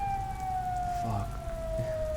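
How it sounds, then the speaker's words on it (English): A single long siren tone on an oil rig at night drones steadily and slowly sinks in pitch, loud and continuous, over a low rumbling background. "the siren does not stop. It just keeps on wailing, screaming its distress out into the night"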